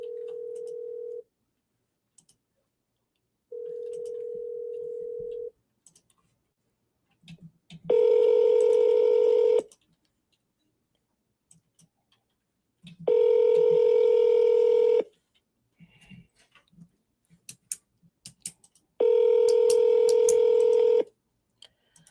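A telephone placing a call gives a series of steady electronic tones: two short beeps, then three longer, fuller tones spaced about five seconds apart, each one clear and alone against silence.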